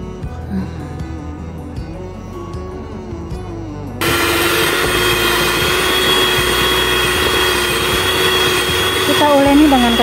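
Stand mixer kneading sweet bread dough at low speed, a steady motor whine kicking in abruptly and droning loud and constant afterward, with someone speaking over the quieter stretch before it starts.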